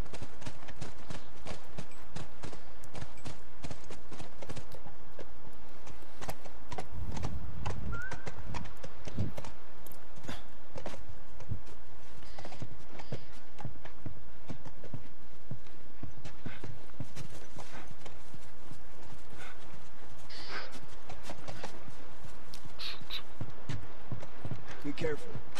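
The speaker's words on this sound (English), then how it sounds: "That's our horse." Steady clip-clopping horse hooves trot along for a long stretch in The Last of Us video game, with a brief whinny and people talking over the rhythmic beats.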